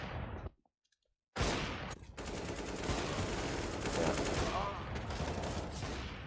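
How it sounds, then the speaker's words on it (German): Gunfire in a professional Counter-Strike match between Fnatic and Natus Vincere: a burst of shots, a brief near-silent gap, then a sudden loud flurry of rapid gunshots and clattering fire sustained to the end. "der Schuss von Guardian"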